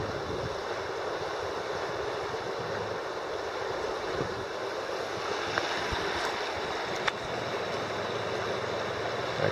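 The Rogue River flows with a steady, even rush of water close by, an unbroken wash of sound with only faint occasional ticks and no voices.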